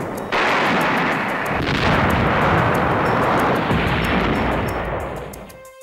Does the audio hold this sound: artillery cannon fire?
yes